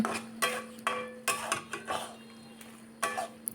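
A spoon stirs boiled potato pieces into a chickpea curry (chola bhuna) in a pan, making a series of sharp metallic clinks and scrapes at an uneven rhythm against a faint steady hum.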